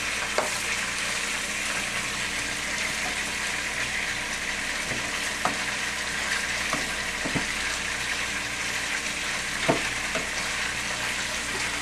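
Country fried steak frying in a pan, a steady close sizzle of hot oil running through the whole stretch with occasional soft pops and light stirring sounds.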